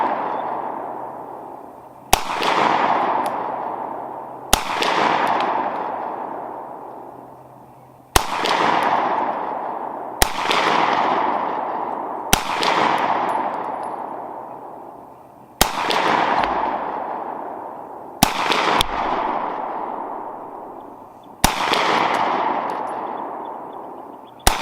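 A Beretta 92FS pistol fires at a 60-yard target outdoors: nine loud, sharp shots spaced a couple of seconds apart, each followed by a long rolling echo that fades before the next.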